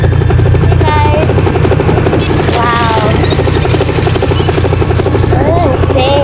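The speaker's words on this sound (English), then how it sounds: "Dude, the chopper's still there." Loud rhythmic chopping of a police helicopter hovering over a rooftop car meet, the thudding rotor beat continuous and close while voices talk and exclaim over it.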